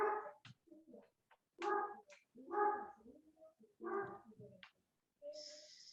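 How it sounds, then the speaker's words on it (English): A dog barks several times in short, separate bursts, heard fairly clearly with pauses between barks and no talk over them. "my dog is barking there"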